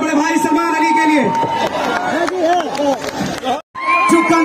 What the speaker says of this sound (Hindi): एक बार जोरदार ताली हमारे बड़े भाई सलमान अली के लिए